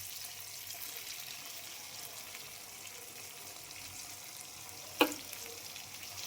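Tomato syrup sizzles steadily in a pan of egg masala gravy, a soft, even frying hiss with one brief sharp click near the end.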